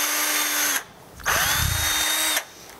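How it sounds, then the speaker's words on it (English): An electric drill bores a hole through the centre of a CD held down with pliers, for a balloon hovercraft build: two close, loud whining bursts with a short pause between them. "I'm going to take pliers here and actually hold that down so that I can drill without it going everywhere"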